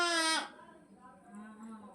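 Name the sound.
child imitating goat bleat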